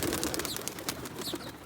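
Several Giribaz pigeons at a fancier's loft in Rajshahi coo and rustle close by, a busy, continuous mix of soft calls with brief higher chirps.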